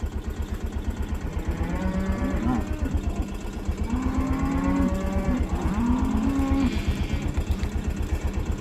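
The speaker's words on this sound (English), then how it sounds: "cows are all in the corral" Cattle penned in a ranch corral give several drawn-out moos, some near and some farther off, over a loud, steady engine idle. No one speaks.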